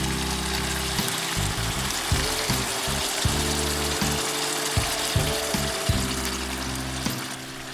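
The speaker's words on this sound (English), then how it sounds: "Then I add 1 liter of water" A liter of water pours into a pan of paella rice over heat, a continuous rushing splash over a sizzle, broken by occasional soft knocks.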